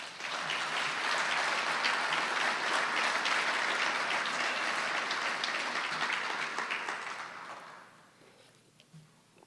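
An audience at a business awards ceremony applauds in a dense, sustained burst of clapping that holds steady for several seconds, then tapers off and fades near the end.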